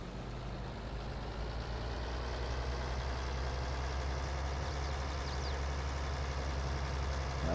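Tractor engine idling in the farming video game Farming Simulator 22, a steady low-pitched drone that holds evenly throughout with no breaks or other sounds.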